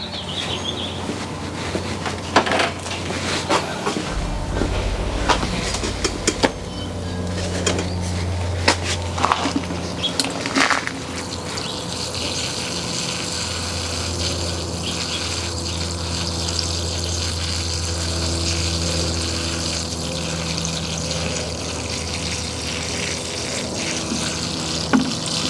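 Water running and splashing as potted plants are watered by hand in a garden, a steady pouring wash with a low hum throughout, close and continuous with no talk.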